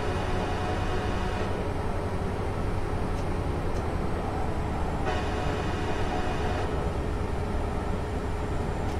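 A steady, loud rumble of an NJ Transit ALP45-DP locomotive on the North Jersey Coast Line in Train Simulator 2016, with a constant mechanical drone and a few faint clicks, continuous throughout.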